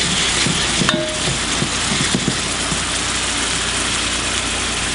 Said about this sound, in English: My onions are going. We add some garlic,